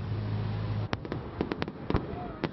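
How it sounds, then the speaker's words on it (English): A Fourth of July fireworks show at Lake Kittamaqundi in Maryland, with a string of sharp booming bursts and crackles of varying loudness over a steady crowd-and-wind background. "A spectacular fireworks show for the 4th of July at Lake Kitimacundi."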